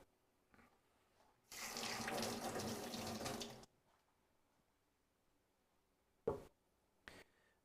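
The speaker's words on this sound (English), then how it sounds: "I just drained off a lot of the water." A sink tap runs water steadily for about two seconds while soaked bulgur wheat is drained in a kitchen during cooking, followed by two short knocks or clatters near the basin.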